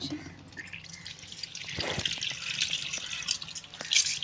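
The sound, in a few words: washing fish in water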